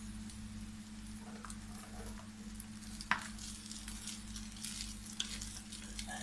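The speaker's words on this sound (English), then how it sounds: "Now to this we're going to add our rice." Leftover rice tipped into a hot pan with egg gives a steady, fairly quiet sizzle and light stirring, with a low hum beneath and a sharp clatter near the middle.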